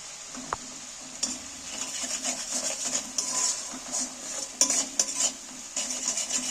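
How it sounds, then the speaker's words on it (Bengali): Spice paste stir-fried in a pan with salt, for a radish and egg dish, makes a quiet scraping, rubbing and stirring sound in irregular strokes over a faint sizzle, with no voices. "এবার আমি মশলাটাকে ভালো করে কষিয়ে নেব"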